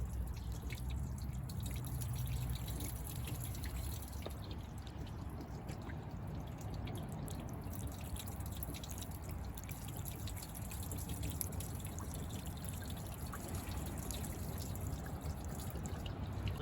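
Steady water trickling and dripping off a 2017 Jeep Cherokee, a continuous wet patter with scattered drips, fairly close, with no voices.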